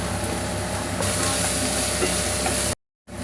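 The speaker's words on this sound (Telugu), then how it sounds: "పచ్చివాసన పోయేంత వరకు ఫ్రై చేసుకోవాలి" Spices sizzling and frying in a pan for tomato egg curry, a dense steady crackle with stirring scrapes, close and loud, cutting out abruptly near the end before resuming.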